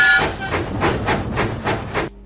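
Steam hisses from a cartoon tank engine in a Thomas the Tank Engine video game, a loud continuous rushing with rhythmic puffing surges that cuts off abruptly near the end.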